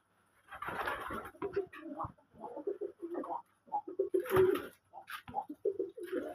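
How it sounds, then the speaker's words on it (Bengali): Red and white pigeons coo in a series of soft, throaty, rolling calls, close by and fairly clear, with brief rustles and flutters between the calls. "মাশাআল্লাহ এগুলো কবুতর আছে"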